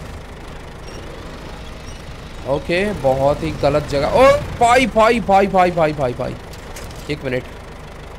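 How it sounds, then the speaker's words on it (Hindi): A tractor engine runs steadily near a steep drop beside fast-flowing water, a low continuous rumble heard beneath someone talking loudly through the middle of the clip. "ओ मेरा ट्रैक्टर फंस गया यार यहाँ पर"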